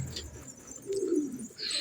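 Young pigeons coo nearby, giving a low, soft warbling coo in the middle with faint higher chirps at the start and end, heard alone against quiet background noise.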